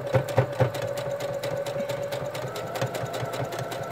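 Sewing machine running a straight seam on a mini tote bag made with French seams, a steady mechanical whir with a few quicker stitch bursts at the start, close and alone.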